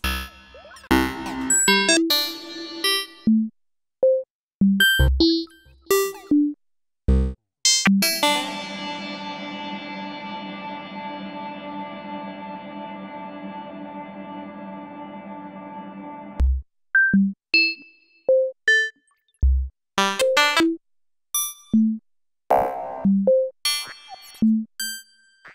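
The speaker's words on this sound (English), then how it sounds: "Then I set the sample and hold envelopes to also modulate the reverb and delay in the hydro synth. So now things get even glitchier." Glitchy Hydrasynth patches with sample-and-hold modulated reverb and delay: chopped, stuttering tones and short bleeps, broken up by a long sustained chord with a reverb tail, then more jumpy, gated fragments, loud and close.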